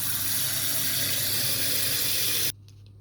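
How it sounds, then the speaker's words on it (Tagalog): Tap water runs steadily into a container to soak ingredients for a Chinese soup in a Hong Kong kitchen, a loud continuous splashing stream that cuts off abruptly near the end, leaving quiet. "Lagyan natin ng tubig to."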